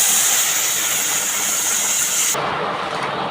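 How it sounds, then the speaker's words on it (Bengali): Loud, steady sizzling hiss as lentils for dal are poured into a pan of hot spice tempering with fried vegetables. The hiss changes abruptly partway through as the pour settles. "এখানে দেখো বন্ধুরা আমি ডালটা ঢেলে দিই বন্ধুরা তোমরা দেখে বুঝতে পারছো আওয়াজটা"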